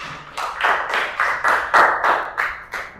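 A classroom of students claps for a presenting group, a steady burst of about nine or ten distinct hand-clap pulses, close and fairly loud, with no talking.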